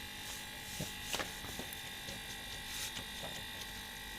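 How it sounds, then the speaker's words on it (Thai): A noisy air-conditioning compressor on a Mercedes-Benz S280 with a leaking refrigerant line gives a constant, faint electric buzz and whine, with a few light clicks and rattles over it. "ที่ดังๆเลยนะอ่าเนี่ยคอมแอร์หน้าแดง ๆ"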